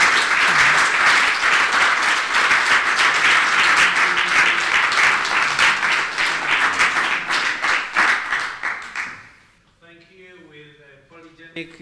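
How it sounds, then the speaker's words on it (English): Loud, sustained applause from a public lecture audience, a dense wash of clapping that fades out near the end, leaving a voice speaking softly. "please give a round of applause to Diethard"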